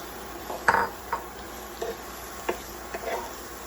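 Garlic and sliced mushrooms cook in a pan with a faint sizzle under a handful of sharp utensil clinks and scrapes against the pan, spaced about half a second apart.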